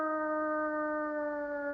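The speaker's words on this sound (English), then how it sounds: "The reason why they howl is to communicate with each other." A single wolf howl holds a steady, sustained pitch with clear harmonics and no rise or fall, heard alone and fairly close.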